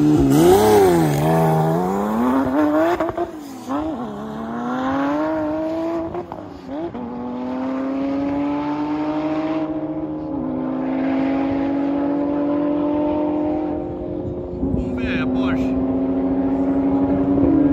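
Two cars launch and accelerate hard in a street drag race, their loud engine notes rising steadily through the gears, close by and continuous for the whole run.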